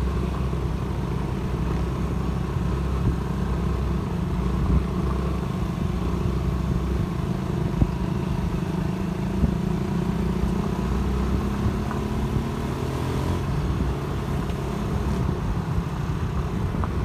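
Motorcycle riding a mountain road near Bolinao, Pangasinan, a steady close engine drone with rumbling wind noise throughout, continuous and loud with no talking.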